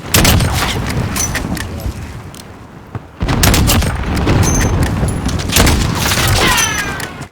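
Video game gunfire crackles in dense, rapid volleys, loud and close, broken by a brief lull before a second heavy burst of shots and booms.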